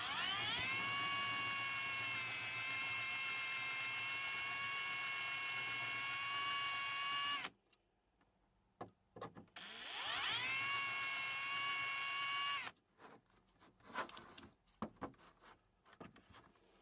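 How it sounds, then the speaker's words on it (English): A drill with a 4mm bit bores out the rivets on a die-cast Matchbox Lesney Mercury Police Cruiser toy car, whining steadily in two long close bursts with brief handling clatter between them. "ready to drill out the rivets with the 4mm drill bit"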